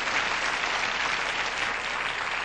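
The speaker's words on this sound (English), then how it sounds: "Nice round of applause for her" Studio audience on the 1980 game show Tic Tac Dough giving a round of applause, dense even clapping from a crowd, loud and sustained for the whole stretch with no voices over it.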